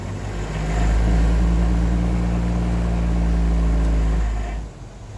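A third-generation Toyota 4Runner engine droning steadily as the truck drives and shifts up through the gears, then the hum falls away as the accelerator is released near the end.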